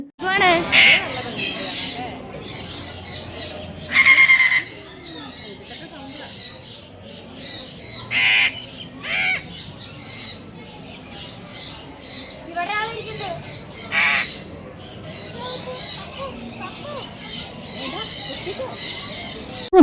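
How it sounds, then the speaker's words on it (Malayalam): Many birds call and squawk at once in an aviary at an exhibition, a dense chorus of chirps and shrill cries with louder bursts, close by and continuing throughout. "കുറേ ബേർഡ്സുകളുണ്ട് അപ്പോൾ അവരുടെ സൗണ്ടാണ് ഇവിടെ ഫുള്ള്"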